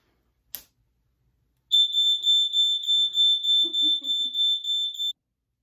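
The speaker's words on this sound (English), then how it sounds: "And don't set off your fire alarms like I just did." A smoke-detector fire alarm set off by burning paper in a fireproof dish sounds a rapid, shrill, pulsing electronic beep for several seconds indoors, following a brief clatter, with a little faint movement noise beneath.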